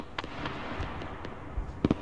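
Gunfire aimed at the player in a World War era war video game, a scattering of distant sharp cracks and pops ending in a quick close pair of louder shots, over steady background rumble, no talking.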